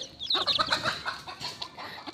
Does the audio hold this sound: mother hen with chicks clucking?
yes